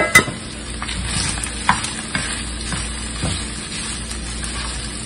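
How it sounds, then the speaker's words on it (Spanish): Ground beef with onion, chayote and carrot cooking in a pan for picadillo, a loud continuous close sizzle with occasional sharp clinks of the stirring utensil and no voices. "aquí se va a guisar todo y va a agarrar todo el sabor de la carne y la cebolla"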